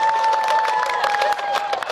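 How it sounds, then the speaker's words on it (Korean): A crowd at a b-boying dance show applauds steadily and loudly for dancers leaving the stage, with the applause running throughout under a sustained tone. "박수 주세요"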